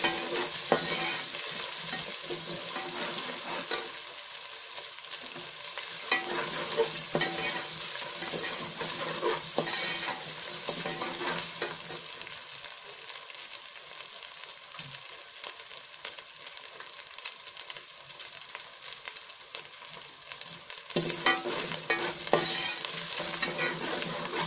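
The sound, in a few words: stir-frying potatoes and cauliflower for aloo gobi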